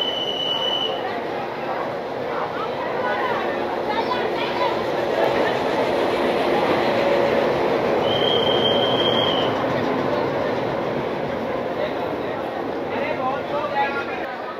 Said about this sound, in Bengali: অবশেষে দিয়েছে আমাদের ট্রেন কাঞ্চনকন্যা এক্সপ্রেস এদিকে 12 নম্বর প্ল্যাটফর্মে